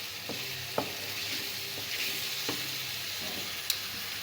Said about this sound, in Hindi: अब आलूओं को भी मैं सिर्फ 2 मिनट के लिए इसमें भूनूँगी